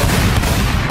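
Cannon fire in an animated scene, a loud, dense booming blast that fills the short moment, close and heavy with no speech over it.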